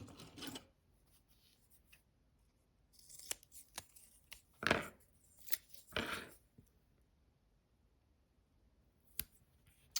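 Scissors snipping paper while making a spring and Easter greeting card, a few short, close crisp cuts separated by quiet pauses, with one louder burst of snips near the middle.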